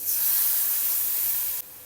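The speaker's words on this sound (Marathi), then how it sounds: "मसाले भाजण्यासाठी थोडं पाणी" Water splashed into spice paste frying in oil sets off a loud, close burst of hissing sizzle that holds steady for about a second and a half, then drops away abruptly.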